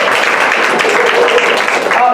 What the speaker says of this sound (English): Round of applause for Chris, she, her.